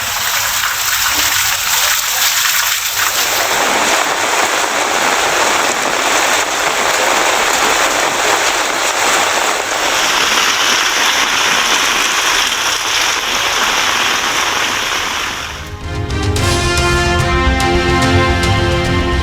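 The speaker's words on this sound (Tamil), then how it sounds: "விருதுநகர் மாவட்டம் அருப்புக்கோட்டை சுற்றுவட்டார பகுதிகளில் சுமார் அரை மணி நேரம் பெய்த கனமழை." Heavy rain pours onto roads in Aruppukottai, a loud, constant hiss and splatter of downpour on wet pavement lasting throughout with no voices.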